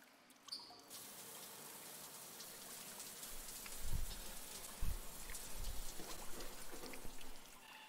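Shower water runs in a Japanese bathhouse within a video game, a steady soft hiss with a few low thuds partway through, fairly quiet.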